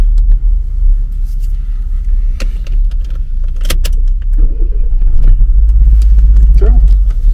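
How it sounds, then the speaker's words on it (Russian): A car engine idles with a low, steady rumble after starting, close and loud, while keys jangle and handling noises clatter intermittently over it. "Ну что, заводи мотор-то."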